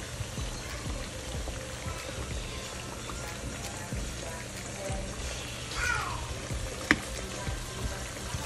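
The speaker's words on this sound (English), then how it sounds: "I'm still frying the squash" Squash frying in a pan gives a steady, even sizzle that runs the whole time, close and moderate in level, with a few faint clinks and a sharp tap near the end.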